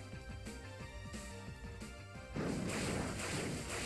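A Pokemon Sun battle in which the Leaf Blade attack lands as a loud crashing slash halfway through, over steady rhythmic battle music.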